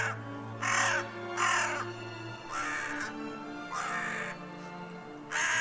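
A crow caws in repeated harsh calls, several evenly spaced bursts, moderately near over a faint steady background hum.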